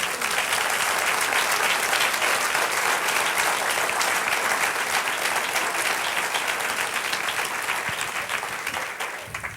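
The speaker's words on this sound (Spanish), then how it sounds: "Dale un aplauso." A congregation applauds during a church sermon, a dense, loud and steady wash of clapping that keeps going throughout and thins only slightly toward the end.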